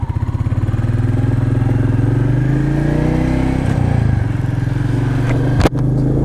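A Royal Enfield Meteor motorcycle engine throbbing steadily and rising as it pulls away, with a sharp clatter near the end.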